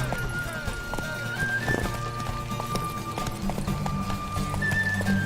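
Roach, the horse in The Witcher game, gallops in a quick, continuous clip-clop of hooves with an occasional whinny, all close and clear over a bed of game music.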